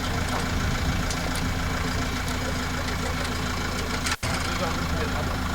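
A tractor engine runs at a steady idle with a low rumbling drone while being used with a rope and a large rake to pull plants out of water outdoors, continuous apart from one brief dropout.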